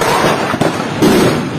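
Fireworks (cohetes) go off outside in a dense, loud barrage of crackling bursts and pops, with sharper blasts standing out in a continuous roar.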